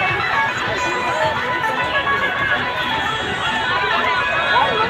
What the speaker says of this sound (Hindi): शिवरात्रि के दिन फुल भीड़ है।